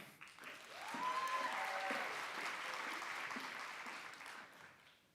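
Audience applause fills a graduation hooding ceremony, a steady wash of many hands clapping that swells after a moment and holds, with a brief voice or whoop rising over the start.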